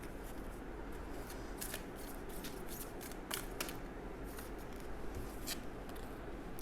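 Oracle cards are shuffled close to the microphone in a quiet room, a soft steady riffle broken by several brief crisp snaps, with no talking.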